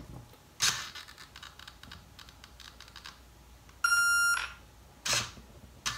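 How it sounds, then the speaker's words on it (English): Soft clicks and taps come first, then a sustained high beep with a bright tonal buzz from a Scorpion Tribunus 14s-200A electronic speed controller during throttle calibration, followed by more short clicking noises. "Hear the beep, lower the stick."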